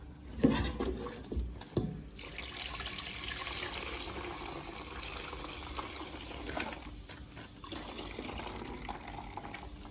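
Soda-soaking water poured out of a bowl of crabs, a steady rushing splash and gurgle of liquid close by, alone without talk.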